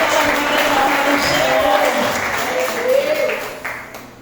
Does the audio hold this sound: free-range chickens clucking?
no